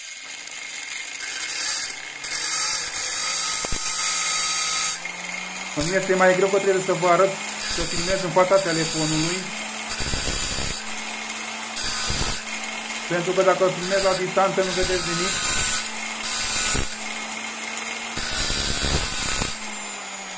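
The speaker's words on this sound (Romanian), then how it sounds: "Și nimeni nu s-ar auzi din cauza zgomotului de la flex." An angle grinder running at low speed sharpens the marked teeth of a tree-pruning saw, whirring in bursts with gritty scraping against the metal, near and loud, with someone talking between passes.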